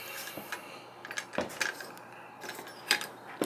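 Metallic clicks and light scraping as the charging handle is slid out of a recently fired, dirty Spikes Tactical AR-15 upper receiver turned upside down, a few close, sharp clinks spread irregularly across the clip.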